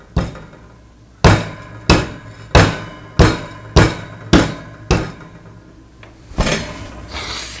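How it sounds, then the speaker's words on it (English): A hammer pounds French press coffee beans on a kitchen surface, about eight sharp, loud, closely spaced thuds in a steady rhythm, followed by a fainter scraping shuffle, with no talk. "you want to pound a couple times with the hammer, and then you want to make a neat little pile"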